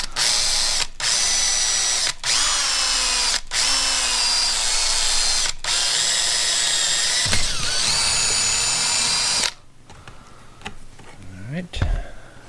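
Power drill boring through material with a 3/16 inch bit, loud continuous whine broken by short pauses across most of the clip, then stopping, with faint handling sounds and brief noise afterward.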